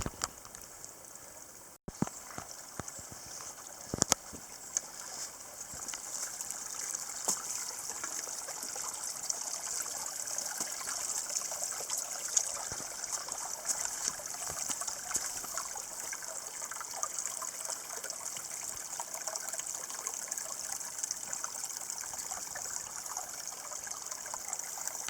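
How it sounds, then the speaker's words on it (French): A small waterfall tumbling through a shallow forest stream gives a steady, close, hissing rush of falling water that holds evenly throughout, with a couple of brief knocks near the start. "Cette cascade, c'est une vraie cascade, je l'avais jamais vue."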